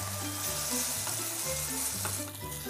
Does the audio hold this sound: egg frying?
yes